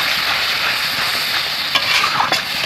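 Spiced chicken with ground masala and a splash of water sizzles steadily while being stirred in a pan, a continuous close frying hiss broken by a few scraping stir sounds.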